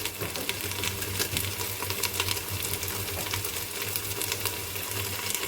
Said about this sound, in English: So we basically just frying it up, And then saute it for a while.